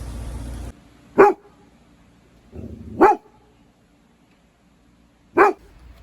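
A dog lets out three short, sharp barks spaced a couple of seconds apart, close by, with a low whining rumble between them in a quiet marina setting.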